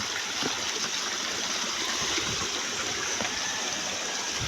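Stream water flows continuously in a steady, close wash with fine trickling and gurgling texture, no voices over it.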